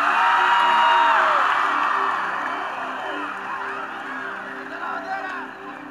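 A congregation at a Christian gathering in El Salvador cheers and whoops, with scattered clapping. The sound is loudest at first and then eases into a sustained crowd roar over a low tonal bed.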